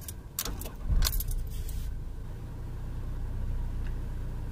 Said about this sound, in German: dann starten wir mal den Motor und gucken, was passiert